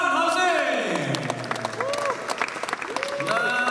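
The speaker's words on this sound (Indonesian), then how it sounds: "Kita berikan juga tepukan paling gemuruh untuk Fadlan" An audience claps at the launch of a Malaysian drama series as a cast member is welcomed, with steady applause running under an amplified voice and some music.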